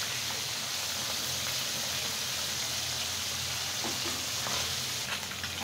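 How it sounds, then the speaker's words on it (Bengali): Four fish fry in a pan with a steady, bright sizzle and crackle, moderately loud and unbroken, with no talking. "এখন আমি মাছটা খুব সুন্দর করে ভেজে নিচ্ছি।"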